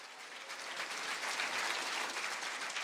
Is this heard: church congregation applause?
yes